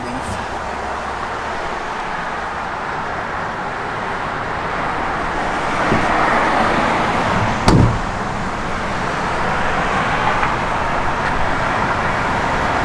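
A 1970 Plymouth Road Runner's engine and exhaust give a steady, rumbling idle at close range, with a brief louder burst near the middle and background noise throughout.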